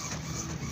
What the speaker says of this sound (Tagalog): Yung nakikita nyo ngayon na piniprint ko.